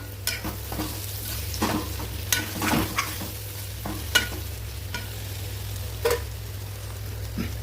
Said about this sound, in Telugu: ముక్క చెదరకుండా మనము ఇట్లా కలుపుకోవాలి